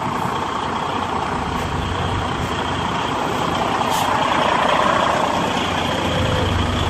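A truck backing up at a shipper rumbles steadily and loudly at close range, its engine droning throughout with a constant high hiss above it.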